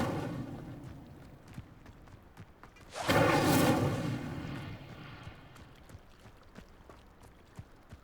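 A fiery blast from the Incendio spell in Hogwarts Legacy bursts loudly after a few quiet seconds of scattered ticks, roaring briefly and then fading back to soft clicks.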